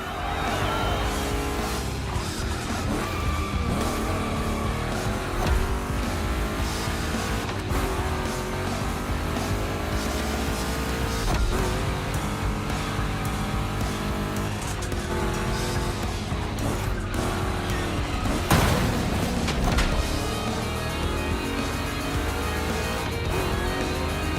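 Two big-block Chevys roar through a race in The Crew Motorfest, with loud sustained engine drone, rising and falling revs through gear changes and occasional tire squeal, continuous and close throughout with no talking.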